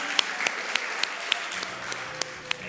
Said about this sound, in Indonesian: Kita tepuk tangan dulu buat Tuhan Yesus.